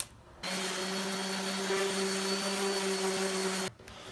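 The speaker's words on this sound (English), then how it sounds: "I'm gonna first sand down with an 80 grit and then go up to a 220 grit." A steady electric sander running on a wooden display case face with 80 grit sandpaper, a constant whirring drone with a strong tonal hum that starts abruptly and cuts off after about three seconds.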